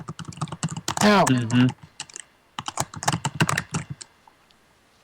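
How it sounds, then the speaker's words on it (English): Rapid, irregular clicks of someone typing on a computer keyboard, close and clear, with a brief spoken word partway through before the tapping continues in bursts. "I hear that typing away there"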